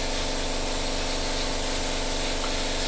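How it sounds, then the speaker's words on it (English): An airbrush hisses in a steady, continuous spray while painting a Tamiya 1/48 scale P-47D and P-51D model, close and even with a faint compressor hum beneath. "So we're just going to spray around."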